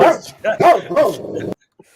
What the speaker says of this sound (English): was going to release the dog on you